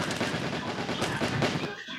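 Rapid automatic gunfire in the video game Stick Fight, a dense, loud, continuous burst of shots lasting about two seconds before tapering off.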